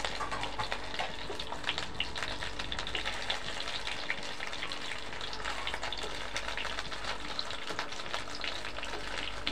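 Stuffed pointed gourd (potol dolma) fries in a pan with a steady, crackling sizzle that runs evenly throughout, close up and with no talking.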